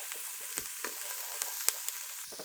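Celery and other vegetables fry quietly in a pot for a one-pot chili. A low sizzle runs under a few soft clicking stir strokes.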